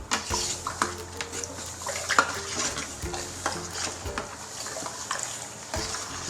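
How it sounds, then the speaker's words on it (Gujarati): A spoon stirs herbal shampoo ingredients, including fenugreek seeds and crushed curry leaves, in a large metal pot, giving repeated close scraping and swishing strokes with light clinks against the vessel and no talk. "ચમચા વડે એકવાર હલાવી લઈશું."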